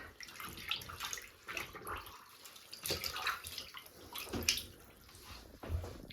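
Denim fabric being pushed under and soaked in cold water, soft irregular splashes, sloshing and drips close by, fairly quiet with no talking.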